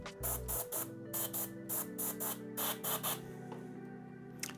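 An airbrush sprays thinned paint onto a Warhammer 40k Imperial Fists Space Marine miniature in short, repeated hissing bursts of about half a second each, with a steady low compressor hum running underneath throughout.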